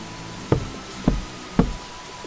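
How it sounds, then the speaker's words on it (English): Three evenly spaced knuckle knocks on a wooden cottage door, close and clear against a quiet background. "Silas knocked 3 times."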